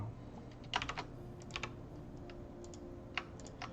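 Sparse keyboard and mouse clicks during 3D modelling work, a few quick taps in small clusters with pauses between, fairly quiet over a steady low room hum.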